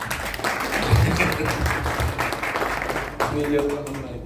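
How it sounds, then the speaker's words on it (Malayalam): An audience at an IBA conference in Ernakulam claps in a steady, dense round of applause that carries on for several seconds, with voices over it. "രാജേഷ് നമുക്കൊരു കയ്യടിയോട് കൂടി സ്വീകരിക്കാം"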